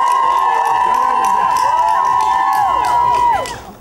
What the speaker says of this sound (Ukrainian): давайте зараз своїми гучними оплесками привітаємо